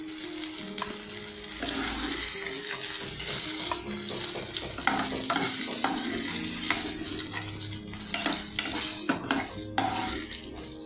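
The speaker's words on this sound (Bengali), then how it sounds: "লতিটা এরকম ভাজা ভাজা হয়েছে, গলবে না" Taro stolons (loti) sizzle in a pan of oil as they are stirred, steady frying hiss broken by scraping clinks of the utensil against the metal.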